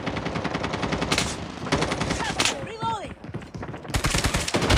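Gunfire in the mobile video game Call of Duty Mobile comes in loud, close bursts of rapid automatic shots with brief pauses between, alongside game sound effects.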